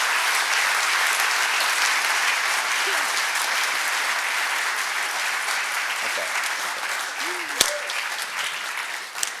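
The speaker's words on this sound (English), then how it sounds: "Please go ahead and clap" A conference audience claps steadily for the organizers and volunteers, a dense, even wash of applause filling the whole stretch with a couple of brief sharper sounds near the end.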